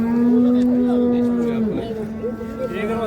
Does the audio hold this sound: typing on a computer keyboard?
no